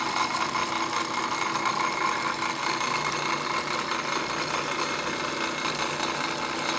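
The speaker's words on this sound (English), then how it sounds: "the power feed allows you to move the table and the vise back and forth in this direction" An antique metal shaper's power feed runs with a steady mechanical whir and rattle as it moves the table and vise, continuous and close throughout, with no speech.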